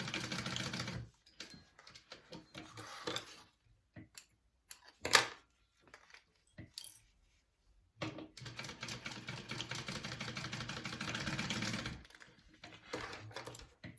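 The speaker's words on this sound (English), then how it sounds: "So we want to sew our edges together at a 1/4 inch seam allowance here." A sewing machine stitches bag edges together at a quarter-inch seam on a crossbody bag. Close, rapid mechanical whirring comes in bursts: a short run at the start, a long run in the middle and another near the end, with quiet handling sounds between.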